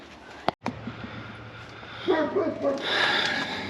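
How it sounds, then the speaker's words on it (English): Two Great Pyrenees dogs bark in the distance, a few muffled woofs under a low background hum, with a brief clatter close by near the start. "We have a new neighbor that has 2 Great Pyrenees that just constantly bark"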